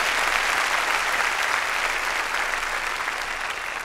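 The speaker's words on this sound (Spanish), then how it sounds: "démosle palmas fuertes a nuestro Señor" A church congregation claps loudly in praise, dense sustained applause from many hands filling the room without a break.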